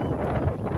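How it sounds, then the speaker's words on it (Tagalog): Strong wind buffets the microphone outdoors while goats are herded home, a continuous low roaring rumble without pause or speech. "ang lakas na ng hangin."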